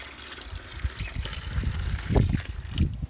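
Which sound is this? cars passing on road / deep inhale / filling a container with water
filling a container with water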